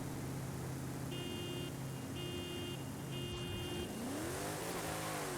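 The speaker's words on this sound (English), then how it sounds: "So like that, launching it, you get out on first pretty hard" A Honda NSX-R drag build tuned to 1,356 horsepower launches hard in Forza Horizon 5. A constant engine drone carries three short whining bursts, then the pitch sweeps and wavers as the car pulls away. No talking.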